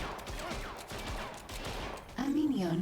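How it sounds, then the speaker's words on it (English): Rapid bursts of gunfire in the video game Evil Genius 2 crackle in quick succession, fairly faint, followed by a sliding tonal whine near the end. "that I hear gunshots and assume something's going on"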